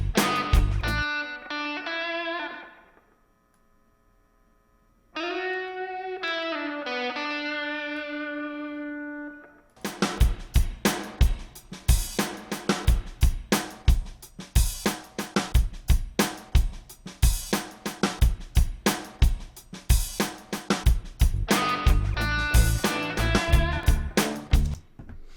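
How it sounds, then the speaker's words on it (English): A soloed music track played through a master reverb effect: sustained melodic tones with a gap, then a dense rhythmic passage of repeated hits, all washed in reverb tails. "It's specifically, in this example, a master reverb"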